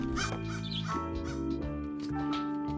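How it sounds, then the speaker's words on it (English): Crows cawing in the skateboarding video game SkateBIRD, a run of loud, close, harsh calls over steady game music with no talk. "Are you the last crows?"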